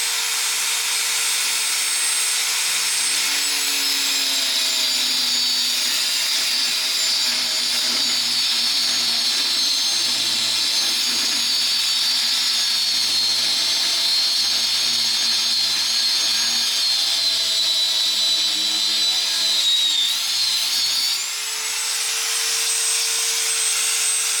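Angle grinder cutting away the leftover fragments of a jammed disc, a loud continuous high-pitched whine with shifting tone that runs steadily throughout and dips briefly near the end.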